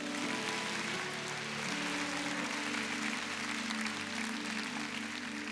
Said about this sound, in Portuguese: Quantos podem aplaudir ao Rei da Glória essa noite?